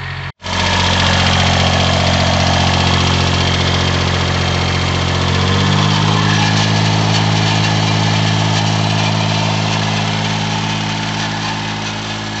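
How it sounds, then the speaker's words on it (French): A Kubota B1400 4WD diesel tractor engine idles steadily and loud while warming up, a low continuous rumble with a slight shift in pitch midway, no voices. "si vous entendez le moteur, c'est parce que je fais chauffer en pendant que je parle le tracteur"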